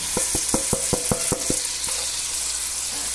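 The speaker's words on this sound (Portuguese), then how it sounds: "Vou deixar refogar aqui pra não colocar." Rice and broccoli sautéing together in a pan: a quick run of sharp, rhythmic scraping taps from stirring over a steady close sizzle, then the hiss carries on alone.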